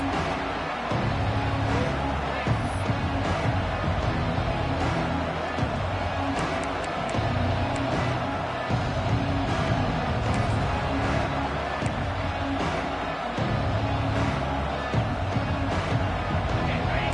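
Noise from a college football stadium crowd, a constant dense roar of many voices and cheering that lasts the whole stretch, with a commentator talking over it.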